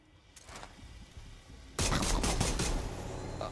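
Pistol gunfire in the zombie game Dead Island 2, where a quiet lead-in gives way to a loud, sustained burst of rapid shots.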